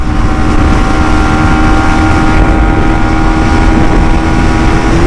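A Yamaha Sniper 155 motorcycle engine runs at full throttle, a loud steady high drone with heavy wind rush, constant and close throughout, with no voices.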